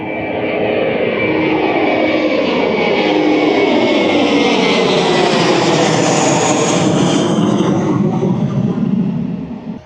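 A jet airliner takes off from the end of a runway at Washington's DCA airport, a loud, broad engine roar that builds, sustains close overhead and trails off at the very end.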